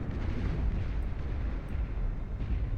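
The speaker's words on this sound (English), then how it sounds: "Fires a 3-round burst of rail cannon." Rail cannon firing a 3-round burst in the Beyond All Reason real-time strategy game, amid a dense, continuous wash of heavy booming explosions and battle rumble during an 8v8 deathmatch, loud throughout with no clear separation of individual shots.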